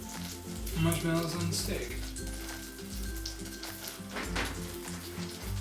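Butter melting in a pan gives a steady soft sizzle and light crackle beneath calm conversation in a home kitchen, while a Disney-park Tigger tail marshmallow treat is made.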